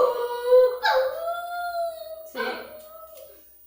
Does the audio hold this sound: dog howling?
yes